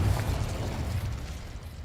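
A deep, rumbling explosive burst from the Confringo spell in Hogwarts Legacy, a sustained low boom that slowly fades.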